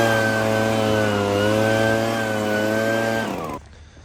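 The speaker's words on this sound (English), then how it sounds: "I'm going to grab the handheld blower now and just run around the site using the handheld rather than the backpack" A handheld leaf blower runs at a steady, loud, droning pitch while clearing a tree-work site, then cuts off abruptly near the end.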